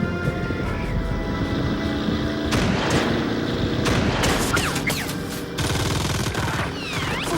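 Film gunfire in the 2003 movie Despiser crackles in dense, rapid bursts over a constant loud roar, near and harsh, with sharp reports stacking through the whole stretch.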